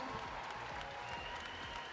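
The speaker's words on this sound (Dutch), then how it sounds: "maar als laatste graag nog één applaus voor al die juryleden, vrijwilligers en Bert de Ruiter, onze speaker van vandaag." Applause from an audience at a Friesian stallion inspection and championship, honouring jury members and volunteers; steady dense clapping fills the whole moment at moderate distance.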